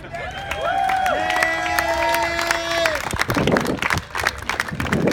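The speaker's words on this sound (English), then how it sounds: "This is the time you clap." A crowd claps and cheers at a tribute toast for a good friend, with whoops and whistles over the first three seconds before the applause turns to scattered clapping and loose chatter.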